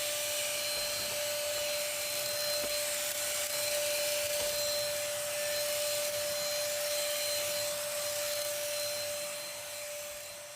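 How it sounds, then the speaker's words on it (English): A cordless vacuum cleaner runs steadily with a high whine and broad hiss, close up and continuous, tapering slightly at the end. "use it as a handheld vacuum cleaner"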